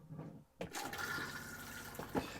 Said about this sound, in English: press the blue button at the back, which will give you a freshwater flush